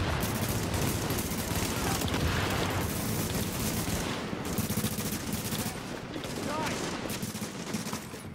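Rapid automatic gunfire in a firefight from the video game The Division, dense overlapping bursts of shots running nearly nonstop and loud, with a short lull midway before more bursts.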